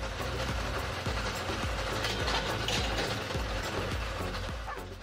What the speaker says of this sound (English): This wood splitter is truly an engineering masterpiece.